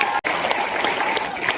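An audience at an RCM event applauds Priyanka, a dense, steady burst of clapping from a crowd with a brief dropout near the start, loud and sustained without speech.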